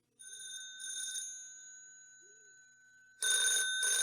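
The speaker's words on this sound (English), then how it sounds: "the phone rang in Pat's house" A telephone rings in a house early in the morning, a steady electronic trill that holds for about a second, fades to a quieter ring, then returns loud and close near the end, with no voices.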